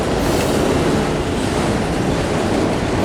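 A heavy freight train rumbles steadily close by in a rail yard, a continuous loud roll of wheels and cars with faint metallic squeal on top.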